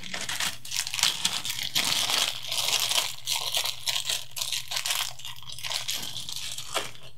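A plastic accessory bag from a vandal-proof dome security camera being rustled and crinkled by hand while an Allen wrench is fished out, close and continuous crinkling in irregular bursts with no talking.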